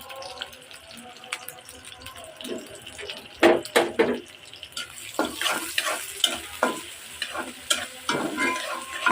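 Onion, green chilli and a little tomato fry in a pan for bitter gourd bhaji, with repeated stirring scrapes and bursts of clatter over a steady sizzle, some louder strokes midway, close up with no talk.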